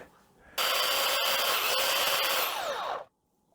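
Power grinder rounding off freshly cut metal pieces for a camper van couch, a sudden loud, close whine that holds steady for about two and a half seconds before stopping abruptly, with no speech.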